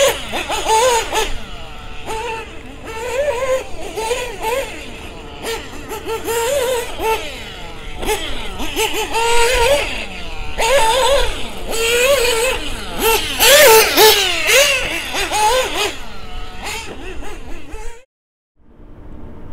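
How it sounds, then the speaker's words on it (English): A nitro RC car engine fitted with a Factory Team adjustable clutch revs at high RPM, producing loud, rising and falling buzzing whines in repeated bursts before cutting to near silence at the end. "you'll hear a large difference in sound. This is because the clutch is engaging at a much higher RPM."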